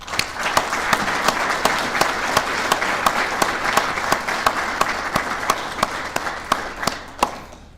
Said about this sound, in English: I think we owe them a big round of applause